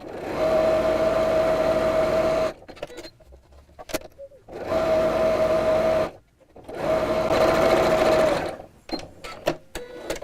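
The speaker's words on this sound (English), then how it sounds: "I'm going to just stitch close to the edge across the bottom and across the top" Close, loud sewing machine stitching near the edge of a lined apron in three long steady runs, separated by short pauses filled with quiet handling noises and fabric shifting.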